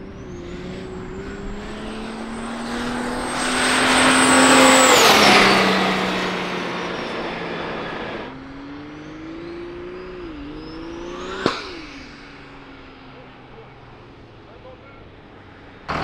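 A Plymouth Cuda engine revs hard and climbs through the gears, with rising whines that drop at each shift before it fades into a distant drone. People talk over it near the end.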